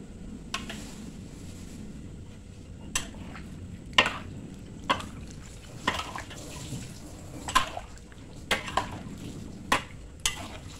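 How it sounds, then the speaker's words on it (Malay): Leftover coconut milk mixed with water and poured into a large wok of chicken curry, a faint liquid slosh and stir under a bed of noise, punctuated by a dozen sharp utensil clinks against the pan. "Saki-baki santan tu kita boleh campurkan dengan air, kocak-kocak dan tuang dalam kari untuk banyakkan lagi kuah dia."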